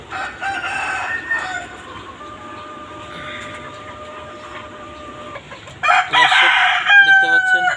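New laying hens on a farm, with a rooster crowing in long drawn-out calls and hens clucking and cackling nearby, fairly loud and close, with a sharper burst of calls near the end.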